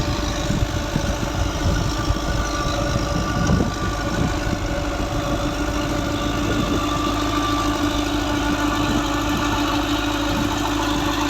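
A 2016-model Dabang tractor engine runs steadily at a tubewell in Punjab, Pakistan, with a continuous, loud, low idling rumble throughout and no talking.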